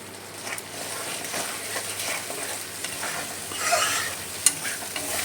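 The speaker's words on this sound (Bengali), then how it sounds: "এখন পরিমাণ মতো একটু লবণ দিয়ে ভালো করে মশলাটা কষিয়ে নেব" Spice masala paste being stir-fried with salt in a pan for a village-style green banana kofta curry: a constant sizzle with soft scraping stirs and one sharp clink of the utensil near the end.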